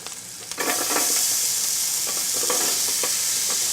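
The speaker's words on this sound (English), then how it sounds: "we're going to go ahead and put in the onions" Onions for coq au vin hit a hot pan and start sizzling loudly, with a bright steady hiss broken by scraping stir strokes of a utensil through the pan.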